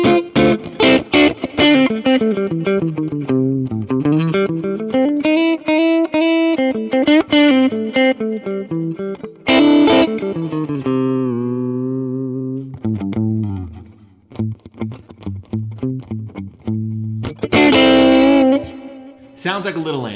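Electric guitar through a Kemper profile of a 1964 AC10 Twin with two 10-inch Alnico speakers, chimey distorted single notes and short runs with bends and sustained tones, close and continuous, with some speech also present.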